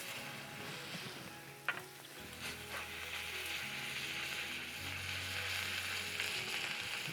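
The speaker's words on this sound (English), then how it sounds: "and it's sizzling" Butter and garlic sizzle steadily in a hot pan, a continuous close frying hiss with a brief sharp clink near the start and no talk over it.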